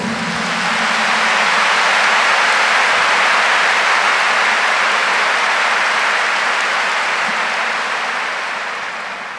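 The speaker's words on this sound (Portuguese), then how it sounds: "Give the Lord a big clap for him." A congregation at a Catholic healing talk breaks into dense, sustained applause for about nine seconds, a steady rain-like wash of clapping that swells in and fades slowly, with no talking over it.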